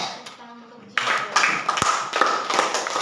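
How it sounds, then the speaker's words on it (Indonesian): Students in a classroom break into a short round of clapping after a classmate's answer, a burst of scattered close hand claps lasting a couple of seconds. "Oke, mari kita tepuk tangan untuk Cia."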